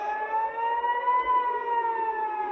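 Israeli civil defense emergency siren for Iron Dome alerts, a steady, loud wailing tone with stacked harmonics that holds nearly level throughout, with no talking over it.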